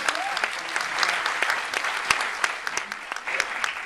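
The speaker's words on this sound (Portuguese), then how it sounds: "Aplausos ao Popito, gente." Audience applause during a cruise ship show, a few seconds of lively scattered clapping from a room of passengers with sharp individual claps standing out and some chatter mixed in.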